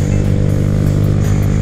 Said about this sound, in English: Grom's having a tough time a little bit with that hill.